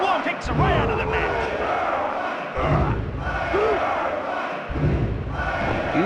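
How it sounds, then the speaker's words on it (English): A roaring arena crowd in an Acclaim wrestling video game swells and surges in loud waves, with thuds and shouts mixed in and an announcer's voice cutting through. "You hear how loud that crowd is. You hear how energetic it is."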